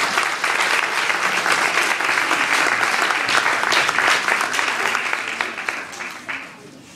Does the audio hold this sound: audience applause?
yes